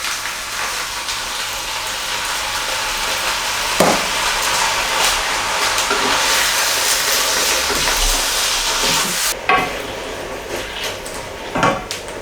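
Chopped tomatoes tipped into a hot pan of vegetarian chilli, a steady broadband sizzle and hiss that holds for most of the stretch, with a few louder clatters and scrapes near the end.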